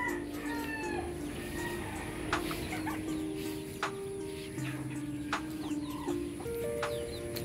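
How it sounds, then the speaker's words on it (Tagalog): Farmyard turkey and chickens clucking and calling at close range, several short bird calls and a few sharp knocks scattered over a steady background hum, with no talk. "Yung pabo natin."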